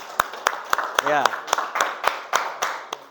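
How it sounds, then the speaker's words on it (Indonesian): A classroom of students gives a short burst of clapping for their classmates, sharp separate claps in an uneven rhythm with a voice speaking briefly over it. "Tepuk tangan untuk teman kalian"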